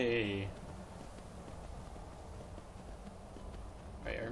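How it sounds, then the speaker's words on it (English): Horse hooves gallop at a steady clip-clop rhythm in the video game Skyrim Special Edition, running continuously at moderate loudness with faint game sounds around them. "Let's get off the horse."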